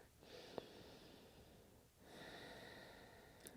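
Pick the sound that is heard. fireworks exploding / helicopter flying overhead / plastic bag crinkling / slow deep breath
slow deep breath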